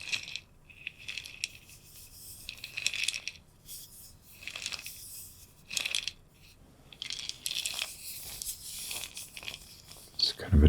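Close, quiet handling of a dried gourd with seeds inside, giving soft irregular rattles, scrapes and crinkly taps in uneven bursts, recorded intimately for binaural ASMR.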